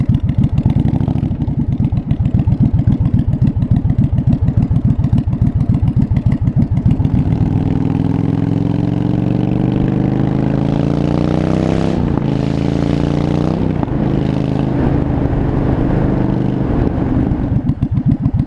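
A 1982 Yamaha Virago 920cc motorcycle engine idles close by, running loud and uneven as though firing on one cylinder with unsynced carburetors, a steady rough chug that lasts throughout with no talk.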